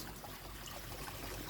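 Water from a garden pond pours out of a pipe at the top of a bog filter, a soft, steady trickle heard close up with no voices.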